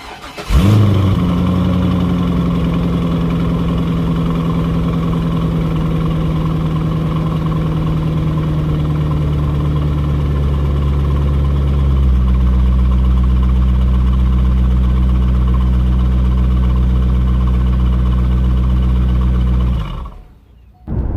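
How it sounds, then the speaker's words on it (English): Cold start of a C5 Corvette on its stock exhaust: the engine catches and settles into a loud, steady, deep rumble heard up close, dropping to a lower idle partway through before shutting off. "I have a stock exhaust, so I'm going to give you a little cold start just so you can hear what it sounds like."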